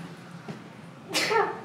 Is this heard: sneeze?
yes